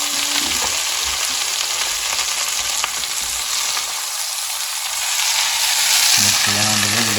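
Freeze-dried squash sizzling in a hot pan with bacon grease, a dense, steady crackle of frying that swells a little louder toward the end, with brief stirring and a low voice in the background.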